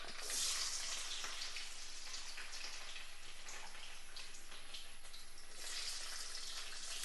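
Chopped garlic and mustard seeds fry in hot oil, giving a steady, fairly loud sizzle that crackles without a break from start to finish, with no talking.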